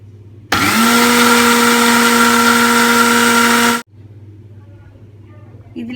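Electric blender whirring loudly and steadily for about three seconds as it beats oil into homemade mayonnaise, starting and stopping abruptly against a quiet room hum.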